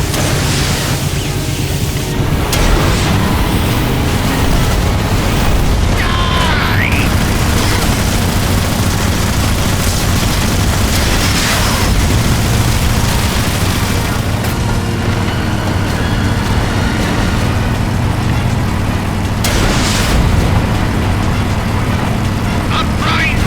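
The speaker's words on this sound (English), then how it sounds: "Incoming missile!" Missile blasts and heavy booms in the video game Metal Gear Solid Delta: Snake Eater, a dense, loud, continuous roar of explosions and rumbling battle noise with no clear gaps.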